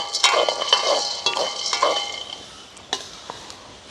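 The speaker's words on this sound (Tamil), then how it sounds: "மாமி அப்படியே தூளுக்கு மிளகாய் மல்லியெல்லாம் போட்டு வறுத்து கொண்டிருக்கிறோம்" Dry chillies and coriander seeds being dry-roasted in a pan in a village kitchen, with a spoon scraping and clinking against the metal in irregular strokes, close and moderately loud.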